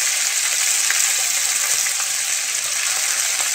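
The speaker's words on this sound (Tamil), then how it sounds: "போட்டு கொஞ்சம் லைட்டாக ஃப்ரை பண்ண விடணும்" Seasoning sizzles in hot oil in a pan while cooking rice rava upma, a steady, bright hiss of frying close by with occasional small crackles.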